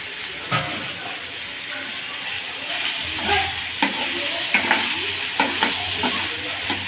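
Salted prawns fry in a pan with a continuous close sizzle and hiss, while a spatula stirs and taps in irregular clacks throughout.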